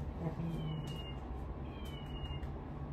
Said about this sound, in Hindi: ये बिल्ली कहाँ से?